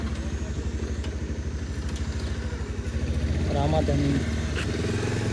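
A motorcycle engine idles nearby in a village lane, its low rhythmic putter steady throughout while someone speaks over it.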